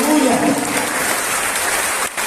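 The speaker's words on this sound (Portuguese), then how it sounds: "aplauda ao Senhor" Congregation clapping during a Portuguese-language Baptist worship service, a loud continuous wash of hands with faint voices mixed in and a brief dip near the end.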